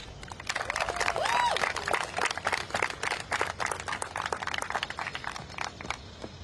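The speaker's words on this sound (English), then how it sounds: "So everyone give a round of applause for our next speaker." Crowd applause outdoors at a student walkout protest in Washington, D.C., dense scattered clapping and a few cheers from a gathered group, moderately loud and steady for several seconds.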